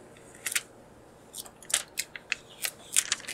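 Protective film being peeled off a new ASRock graphics card, a series of short, sharp crackling tears close up, in uneven bursts with brief pauses.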